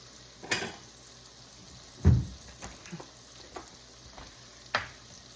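Squash slices fry in a pan with a soft, steady sizzle close by. A few louder clinks and scrapes of utensils break in sharply over it.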